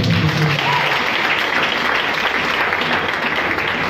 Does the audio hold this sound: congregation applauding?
yes